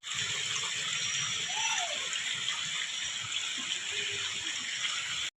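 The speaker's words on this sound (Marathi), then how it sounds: "हे बिळातनं झरो वाहता खाली, या बिळातनं पाणी येतं" Water runs out of a hole in the rock near a village waterfall in Konkan, a steady close gushing and splashing rush with a voice talking faintly under it.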